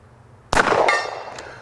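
A single .44 Magnum shot from an S&W 629 revolver strikes a distant steel target, which answers with a sharp metallic clang that rings out and fades over about a second.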